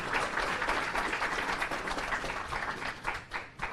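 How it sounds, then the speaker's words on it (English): Audience at a community knowledge sharing day in Mi'kma'ki gives honorees a round of applause, a continuous dense wash of clapping that holds steady and dips briefly near the end. "if we could give them another round of applause"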